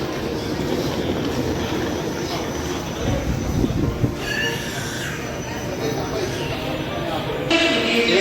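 A passenger train pulls away from Kollam Junction, its continuous rumble and wheel clatter mixed with station bustle while people talk loudly nearby.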